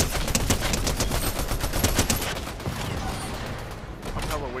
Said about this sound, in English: I'm hella wasting bullets though.